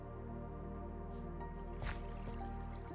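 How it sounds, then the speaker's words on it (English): Waterfall trickling in the Minecraft video game, soft dripping and splashing water over a steady low hum, with a couple of brief brighter splashes, faint and without talk. "you can see we have a pretty waterfall"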